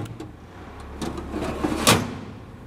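Storage drawers and latches on a Steelweld dually 60-inch chassis utility bed are worked by hand, giving a few soft clicks and a sliding rattle, then a sharp metallic latch snap near the end.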